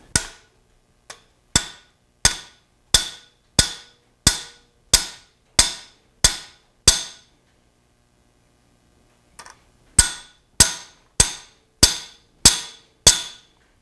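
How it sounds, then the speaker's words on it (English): Hammer blows ring out on a mild steel rivet header as a 1/4 inch piece is worked, a steady run of about ten sharp, loud metallic strikes, a pause, then six more, with no talking. "when you're striking this mild steel, it's going to tend to deform on the top side especially"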